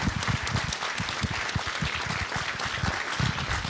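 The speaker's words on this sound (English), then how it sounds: "let's give them a round of applause" Audience applause for venue staff at a steering committee gathering, dense continuous clapping from a room full of people, steady and fairly loud throughout.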